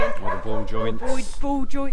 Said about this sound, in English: excuse the dog barking